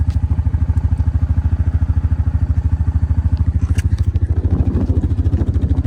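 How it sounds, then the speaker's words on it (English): A quad bike engine idles for a turbo cool-down, giving a loud, steady, low throbbing putter with even rapid pulses. Faint rustling and clatter sit over it near the end. "Turbo cool down here."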